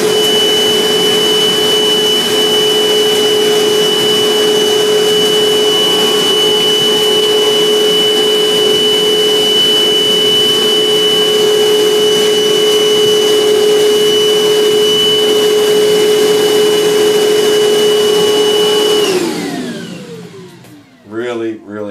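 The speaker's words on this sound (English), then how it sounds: "now this vac is louder than the DeWalt, significantly too" A Milwaukee 18V cordless shop vac runs loud and steady with a high whine as it sucks up wet, damp grass, then winds down near the end with a falling pitch.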